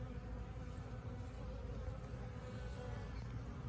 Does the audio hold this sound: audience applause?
no